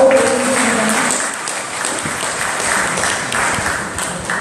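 A conference audience breaks into a short round of steady applause, loud and close, with a faint voice at the very start.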